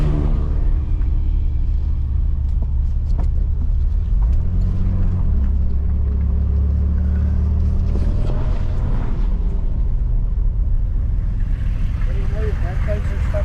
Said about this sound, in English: Cruising at 45 in 5th gear, it does 33 miles per gallon.